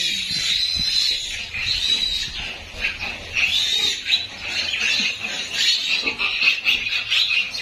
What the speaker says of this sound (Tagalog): Ingay na yung anak ni Sweet, oh